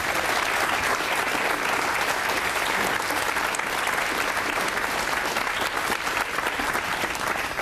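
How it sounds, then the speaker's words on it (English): Studio audience applause on the Deal or No Deal game show, a dense, sustained roar of many hands clapping at a steady loud level throughout with no pause. "And the length of that applause says it all."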